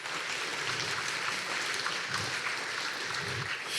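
A conference audience at Stretch 2020 gives steady, distant applause for a speaker, a dense even patter of many hands with no voices, sounding rain-like and fairly faint.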